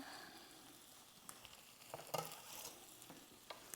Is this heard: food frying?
yes